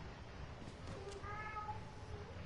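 In the horror game Outlast, a cat gives a faint, brief meow against a steady background hiss, quiet and somewhat distant.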